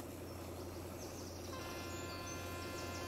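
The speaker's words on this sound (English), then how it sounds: "Birds." Birds chirp faintly in the ambient soundscape of a Taurus Mountains, Turkey route in a train simulator game, with sparse high calls over a steady, quiet background hum.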